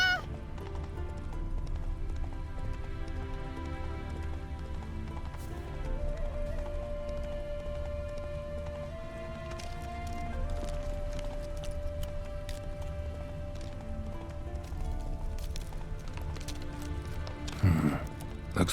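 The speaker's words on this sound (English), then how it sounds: "Heavily laden horse." A heavily laden horse in The Witcher 3 game, its hooves clip-clopping at an even pace under a low ambient bed, steady and moderately quiet, with a sharper burst of noise near the end.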